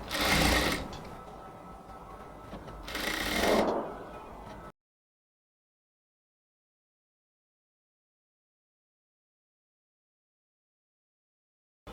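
A sewing machine stitches a blouse neckline in two short bursts of rapid whirring, loud and close, then falls silent for the rest.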